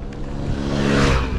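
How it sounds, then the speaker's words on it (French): A scooter passes close by on a mountain-bike trail in Nord-Pas-de-Calais, its engine rising to a loud whine and fading over about a second and a half, heard alone without talk. "Ah, scooter."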